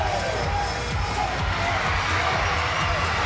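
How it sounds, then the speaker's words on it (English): Crowd noise fills a sitting volleyball arena during the Egypt versus Germany men's bronze medal match, with both teams cheering through a steady, loud roar that holds the whole time. "This is where we see both teams cheering for it until the referee makes that decision."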